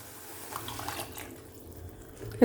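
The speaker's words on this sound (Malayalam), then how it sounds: "ഇതിലേക്ക് ആവശ്യത്തിന് വെള്ളം ഒഴിച്ചു കൊടുക്കാം." Water is poured into a simmering drumstick leaf curry, giving a brief soft splashing gush over faint kitchen background, ending in a small clink.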